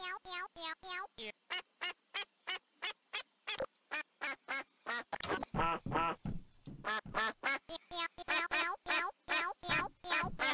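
Video game duck quacking in quick repeated calls, loud and close, a long run of evenly spaced quacks broken by a brief louder burst of clustered calls midway, with no talking over them.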